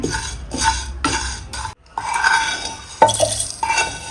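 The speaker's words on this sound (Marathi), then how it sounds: "आता मी मिक्सर जार मध्ये काढून घेते आहे" Roasted coriander and cumin seeds rattle and scrape as they are tipped from a pan into a mixer jar, in several short bursts with brief pauses between.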